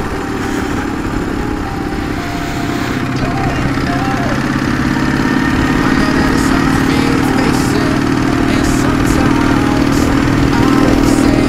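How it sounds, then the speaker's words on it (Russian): A motorcycle idles steadily close by, kick-started and running at a low rumble with a droning tone that creeps slightly upward, as light rain begins; the engine is loud and continuous with no speech. "мы прям заводим мотоцикл вот с подножечки"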